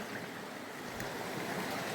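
Waterfall pouring into a small pool on a trout creek, a steady broad rushing wash of water close by with no break and no talk.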